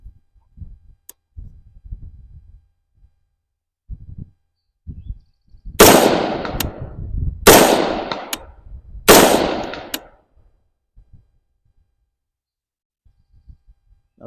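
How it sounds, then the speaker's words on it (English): A Palmetto State Armory Sabre 13.7-inch rifle fired three times at a steel plate roughly 175 yards away, three loud sharp cracks about a second and a half apart, each trailing off, with light handling clicks before and after. "I'm going to let 3 rounds off at the steel plate at 180 yards"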